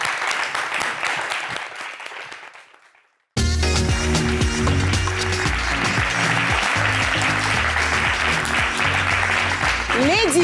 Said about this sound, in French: Allez, on applaudit pour mes chéris.